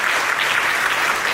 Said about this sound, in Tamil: மீண்டும் ஒரு முறை உங்க பேரண்ட்ஸ்க்குலாம் ஒரு நல்ல கைத்தட்டல் கொடுங்க